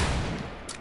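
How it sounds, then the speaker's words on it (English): A short, loud burst of gunfire from a Fortnite match, a quick cluster of shots under a second long, with no talk. "Did you see them bullets that I just shot?"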